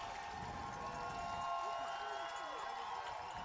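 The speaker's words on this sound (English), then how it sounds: "The crowd making noise." Crowd at a high school football playoff game, a steady, distant roar of voices and cheering that holds level throughout, with a tonal hum running beneath it.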